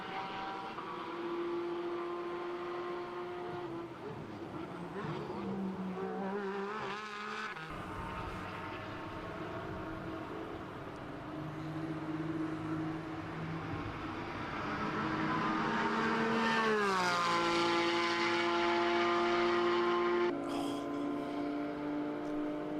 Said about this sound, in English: I just had to give you all a bit of Porsche 718 Cayman GT4 RS Club Schwab ASMR